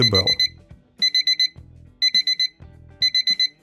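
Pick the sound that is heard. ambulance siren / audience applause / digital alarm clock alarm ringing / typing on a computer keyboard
digital alarm clock alarm ringing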